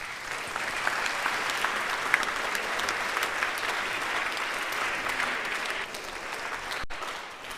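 Steady applause from an audience welcoming a speaker at an evening event, dense and sustained throughout before tapering slightly near the end.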